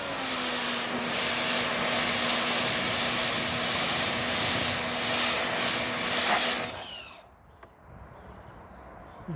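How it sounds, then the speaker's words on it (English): A pressure washer runs with a loud, steady, close roar and a constant hum for about seven seconds, then cuts off abruptly, leaving a quiet background. "Let's go and switch the pressure washer on first."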